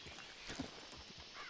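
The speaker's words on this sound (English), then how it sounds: "Do you want to get on my horse instead, Gem?" Faint hoofbeats and a brief horse neigh from a video game, a quick soft clatter of steps lasting only a moment.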